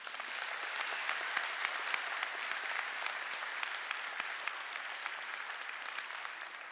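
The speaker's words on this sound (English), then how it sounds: "Let's give them both a round of applause." A large graduation audience at a 2017 high school ceremony gives a steady, sustained round of applause, a dense even roar of many clapping hands heard from a distance in a big venue, with no pause.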